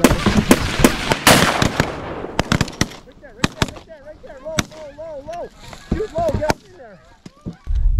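A rapid volley of shotgun blasts, several loud sharp shots close together, fired at ducks and geese during a field hunt in Alberta, followed by honking and calling of waterfowl under brief talk.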